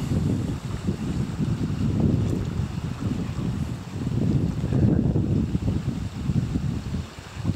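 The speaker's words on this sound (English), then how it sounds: "Well, wind has picked up quite a bit." Strong wind blows steadily on a lake shore during a solo canoe trip, a loud, continuous roar of gusts buffeting the microphone with low rumbling surges.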